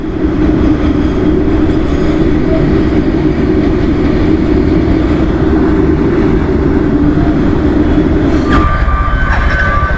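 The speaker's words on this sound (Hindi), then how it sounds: "ये है मालगाड़ी, यहाँ से कोयला जा रहा है इसमें।" A coal-laden freight train rolls steadily past a railway crossing in Raigarh, Chhattisgarh, its loud continuous rumble and rattle of wagons filling the scene close by, with a brief higher tone near the end.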